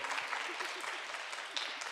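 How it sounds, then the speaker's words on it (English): An audience at a dance diversity forum applauds the event's sponsors, a brief spell of steady, dense clapping from a moderately distant crowd. "Give them a round of applause."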